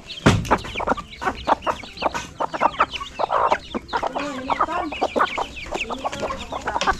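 Chickens clucking close by, a busy stream of overlapping clucks and squawks with a louder squawk near the start, continuous over several seconds in an outdoor yard.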